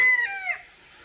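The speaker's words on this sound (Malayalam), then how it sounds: "കോഴി ഫാം ഉണ്ടല്ലേ?" On an agricultural farm, a single chicken gives a short, bright crowing call that quickly fades.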